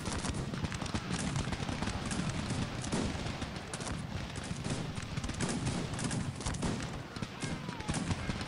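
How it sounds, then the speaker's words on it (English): Continuous crackling musket volleys from British line infantry in the strategy game Cossacks 3, a dense loud rattle of overlapping gunshots rolling on without pause. "Boom! And the volley goes off."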